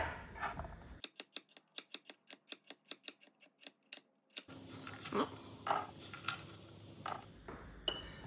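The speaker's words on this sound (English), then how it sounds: "we're going to start by chopping up the carrot into bite-sized chunks" A knife chops a carrot into bite-sized chunks for an Irish beef stew, with a quick, steady series of about a dozen sharp taps on a cutting board, followed by softer scraping and clinking nearby.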